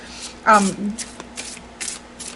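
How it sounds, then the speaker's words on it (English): A gilded oracle card deck is riffle shuffled close up, giving a brief crisp ruffle of cards that is followed by lighter handling sounds while a person talks over it. "You technically shouldn't be riffle shuffling any gilded decks, right?"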